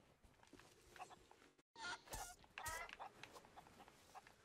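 Chickens cluck in the pirate video game Sea of Thieves, a few short bursts up close after a brief dropout, heard over busy in-game ambience.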